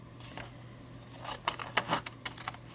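Scissors snipping paper pieces for a handmade junk journal, a scattering of quick sharp cuts and rustles growing busier toward the end, close and fairly quiet over a faint low hum.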